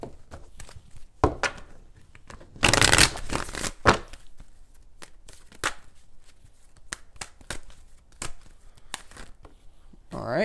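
A deck of tarot cards is shuffled close up, with soft riffling flutters and papery slaps in irregular bursts, one longer riffle in the middle.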